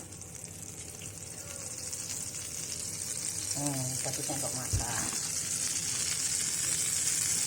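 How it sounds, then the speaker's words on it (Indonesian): A tablespoon of butter sautés in a pan with a steady, soft sizzle throughout, and someone speaks briefly over it. "Sekarang tumis mentega 1 sendok makan"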